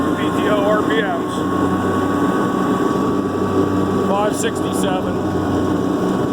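Kubota B2650 tractor at full throttle in full HST with the PTO driving an LP FDR2572 mower, a steady loud engine drone with a constant hum, while someone speaks briefly over it.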